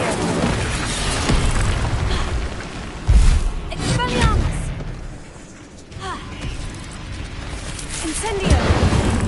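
A fire spell cast in Hogwarts Legacy erupts in bursts of booming, crackling magic amid a busy battle soundscape, with a loud blast near three seconds and further flares later, over a steady game background.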